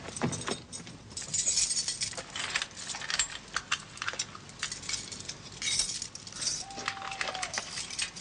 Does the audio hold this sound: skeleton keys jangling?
yes